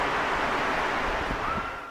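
Kaminari-daki waterfall in Nagano, heard from close by near the path behind the falls: a dense, steady hissing roar of falling water that fills the whole clip without a break.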